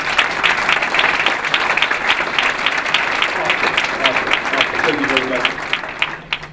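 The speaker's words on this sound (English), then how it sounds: "Give a round of applause to our committee members." A crowd at a Martin Luther King Jr. unity breakfast gives committee members a round of applause, steady mid-loud clapping throughout with a faint voice briefly audible underneath near the end.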